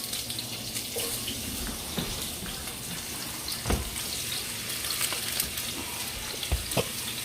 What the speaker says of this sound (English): so now the pan is hot enough. We're gonna start adding our fish.